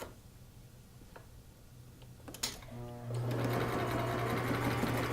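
A sewing machine stitches the fabric band of a turban, starting with a few faint ticks and then settling after about three seconds into a steady, close, continuous mechanical whir.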